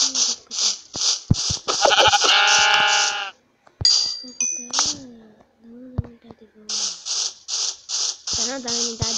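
Sheep bleating in the block-building video game Minecraft, a few short wavering bleats mixed among repeated game sound effects while someone talks over them.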